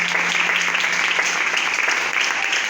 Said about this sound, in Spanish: denle una fuerte ofrenda de palmas al Señor